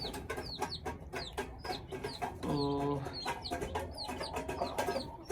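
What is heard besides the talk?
chickens clucking, hen and white rooster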